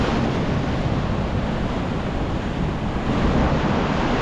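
Broadband roar of ocean surf crashing and washing near Dragons Head Rock at a high tide, loud and close, steady throughout with some wind buffeting, no voices.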